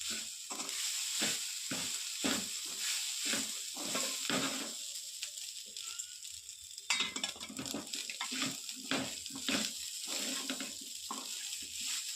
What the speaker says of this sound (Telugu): మంచిగా వేసుకుంటూ మసాలాలన్నీ మంచిగా రైస్కి పట్టేటట్టు మంచిగా మిక్స్ చేసుకోవాలి